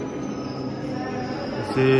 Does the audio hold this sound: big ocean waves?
no